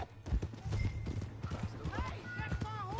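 Horse hooves clip-clop steadily in Red Dead Redemption 2, a close rhythmic run of hoof strikes with voices and other game sounds over it.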